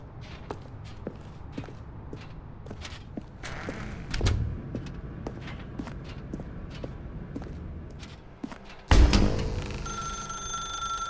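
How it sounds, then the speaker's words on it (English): A telephone rings inside a dark room in the game The Stanley Parable, with steady repeating ring bursts near the end, after a stretch of footsteps and soft thuds. "Now pick up the phone"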